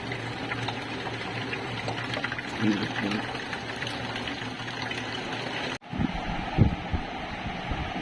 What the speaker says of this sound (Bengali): পানি ফিল্টার থেকে গেলনে পানি ভরছি